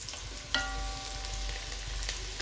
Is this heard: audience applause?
no